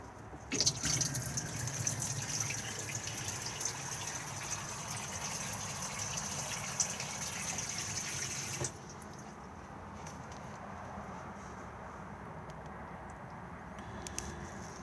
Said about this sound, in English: We need the water pump on to be able to get water out of the taps and fill the boiler